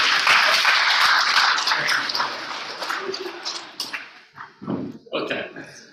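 Applause for Troy during a church service, with a burst of clapping from the congregation dying away as voices and small sounds take over.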